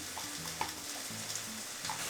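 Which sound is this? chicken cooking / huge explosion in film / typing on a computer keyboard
chicken cooking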